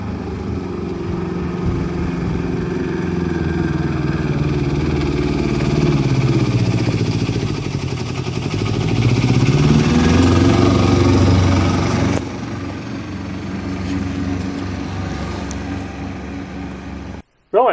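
The small engine of an Aixam Mega Van runs in a loud continuous drone that rises and falls in pitch as it revs, holding steady near idle toward the end before cutting off abruptly.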